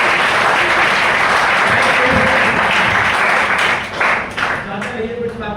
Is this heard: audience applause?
yes